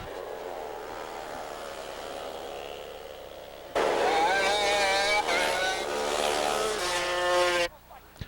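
Racing karts driving on a track, a distant engine hum that jumps to loud, close, high-revving buzzing as karts pass, then cuts off abruptly.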